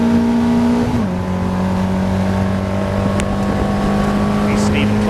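Caterham race cars braking into a chicane during a close lead battle, engines droning loud and steady with a drop in pitch as they slow, overlapping engine tones from several cars, with commentary running over the top.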